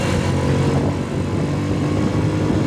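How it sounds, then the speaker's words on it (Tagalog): A 100cc motorcycle engine drones steadily while riding uphill on a mountain road, a loud continuous low hum close to the microphone with wind rush and no voices. "Maganda naman ang kondisyon itong motor na ginagamit ko"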